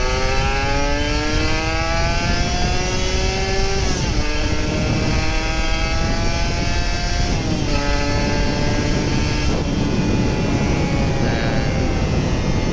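A Kawasaki Ninja RR 150 motorcycle engine warms up close by, revving repeatedly in rising surges that fall back between throttle blips, loud and steady with no voices.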